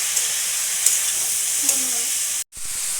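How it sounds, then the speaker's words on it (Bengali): Chicken mince fries with cumin, chili powder, curry masala, salt and turmeric in a pan, giving a steady bright hiss with a few faint clinks, then a brief dropout before the sizzle resumes. "তারপরে দেবো জিরে গুঁড়ো, লঙ্কা গুঁড়ো, চিকেন কারি মশলা, লবণ আর হলুদ দিয়ে ভালোভাবে ভাজতে হবে"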